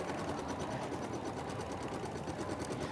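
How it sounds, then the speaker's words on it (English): A sewing machine stitches through heavyweight interfacing, a fast, steady mechanical whir with a rapid even needle rhythm, close and continuous with no talking. "My machine is stitching beautifully through this heavyweight interfacing"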